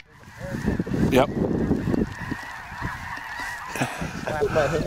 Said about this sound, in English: Those big snow geese.